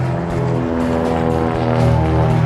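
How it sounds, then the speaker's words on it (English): Radial engines of de Havilland Beaver float planes drone loudly and steadily, a rich low throbbing hum with layered harmonics that swells slightly toward the end, heard alone without talk. "I like the noise of those beavers. The radial engines make a lot of difference."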